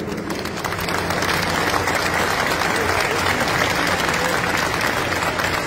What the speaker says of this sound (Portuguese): pedir uma salva de palmas para os grandes mestres aqui